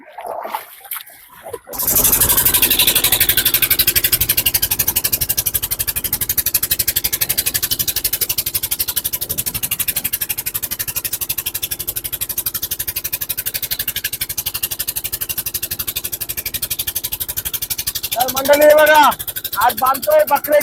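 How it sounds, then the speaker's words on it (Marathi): A small motorboat's single-cylinder engine starts after a short pause and runs steadily and loudly close by, with a throbbing, buzzing note that holds for the rest of the clip. Splashing water sounds briefly near the end. "ही छोटीची बोट आहे आणि हे तिचं इंजन आहे बघा एक सिलेंडरचं इंजन आहे बघा"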